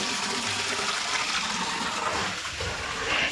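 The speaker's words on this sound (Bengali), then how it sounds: "বোতলটা দিয়ে এলাম জল ভরার জন্য" Water pours continuously from a tap into a bottle, a steady, close rushing hiss that barely changes over a few seconds.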